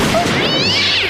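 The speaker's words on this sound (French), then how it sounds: "mon petit chat est dans l'arbre" A cat meows up in a tree, one drawn-out, rising and falling cry that carries clearly over a steady background.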